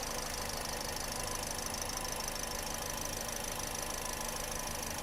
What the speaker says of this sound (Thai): ฟังเสียงเครื่องยนต์ไปในตัวนะครับ